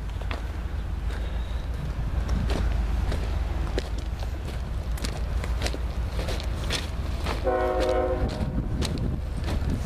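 Norfolk Southern 8100 Nickel Plate Road heritage locomotive leading a train in Berea, Ohio, with a loud rumbling roar of passing rail cars close by and a brief horn blast near the end.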